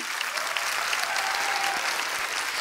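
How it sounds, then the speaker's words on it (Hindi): A live audience at a Hindi-language event breaks into steady, dense applause, a broadband wash of many hands clapping that holds evenly throughout, fairly close and sustained without any talk over it. "इनके लिए जोरदार तालियां।"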